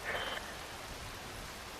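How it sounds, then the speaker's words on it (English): Steady rain falls in the video game Metal Gear Rising: Revengeance, a faint, even hiss throughout, with a brief brighter tone at the very start. "Wind blows. Rain falls."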